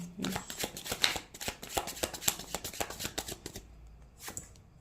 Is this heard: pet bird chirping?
no